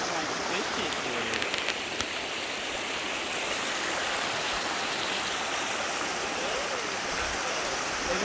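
A river in Stanislaus County flowing steadily: close, continuous rushing and splashing water without a break, with no clear talking over it.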